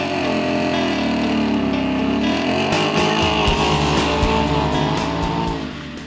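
A 2018-2020 Mustang GT V8 fitted with a MagnaFlow xMOD exhaust, muffler module and block-off plates installed, runs down a track with a loud sustained engine roar that rises in pitch then eases off near the end.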